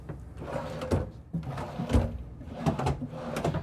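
Cabinet drawers in a 2025 Newmar Dutch Star 4369 Class A motorhome being pulled open and pushed shut, several close, sharp slides and knocks in an irregular rhythm.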